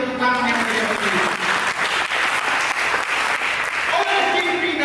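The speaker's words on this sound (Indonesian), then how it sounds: "Mari kita berikan tepuk tangan yang meriah bagi Dia." A church congregation bursts into lively applause, loud sustained clapping mixed with a voice speaking and faint music tones at the start and end.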